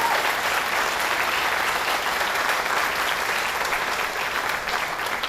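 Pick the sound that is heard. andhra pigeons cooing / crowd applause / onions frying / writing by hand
crowd applause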